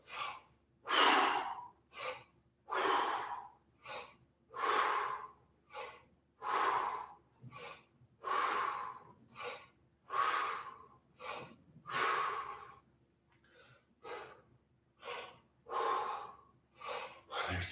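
Heavy, forceful exhaled breaths during a breath-squat exercise in a vocal workout, roughly a dozen loud, evenly paced huffs with short pauses between, close to the microphone.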